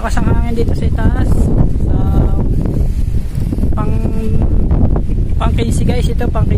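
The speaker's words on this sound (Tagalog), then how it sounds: "medyo malakas ang hangin dito sa itaas" Strong wind buffets the microphone in a constant loud roar while someone talks over it.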